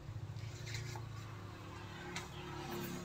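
Steady rasping scrape of sandpaper rubbing back and forth over a surface, close up, with a low hum underneath and no talking, during amplifier repair.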